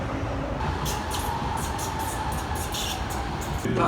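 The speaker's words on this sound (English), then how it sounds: "This is the train to Paddington." An Elizabeth Line train at Custom House Station in London, a steady loud rumble and hiss of the train rolling in, with repeated brief high squeals and a faint tone over the din.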